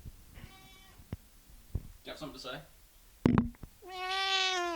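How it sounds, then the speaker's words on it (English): A pet cat meows several times, short harmonic cries scattered among indoor clicks and bumps, with a longer, louder meow at the end; someone speaks briefly in between. "my cat's coming."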